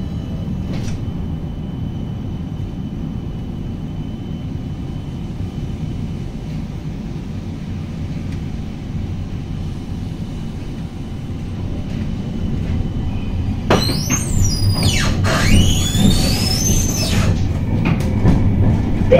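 A West Midlands Metro tram sits humming at low level, then begins departing with rising rumble and sharp high squeals and chimes in the final seconds.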